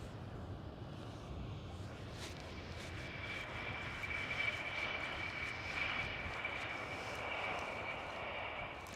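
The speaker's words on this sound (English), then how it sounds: "an E175 of KLM City Hopper is landing at the moment" At Amsterdam Schiphol airport, a KLM Cityhopper Embraer E175 jet lands, its distant engine roar a faint, steady rumble with a thin whine that grows slightly as it passes, heard alone without voices.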